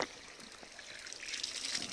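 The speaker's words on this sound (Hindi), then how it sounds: "ये देखिए पानी" Clear stream water trickling and gurgling in a natural setting in Jharkhand, close and fairly soft, with bubbly splashing that swells slightly toward the end and no talking.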